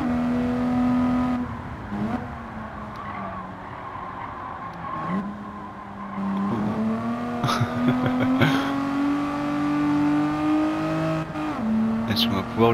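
A 1970 Nissan Skyline Hard Top 2000 GT-R engine in Gran Turismo 7 revs up steadily with rising pitch and shifts through gears, loud and continuous, while someone talks over it.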